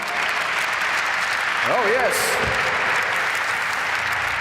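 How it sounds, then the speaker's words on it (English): Steady crowd applause fills the room throughout at the global reveal of the new Ford Focus RS, with a brief spoken exclamation cutting in partway. "a round of applause for the main man"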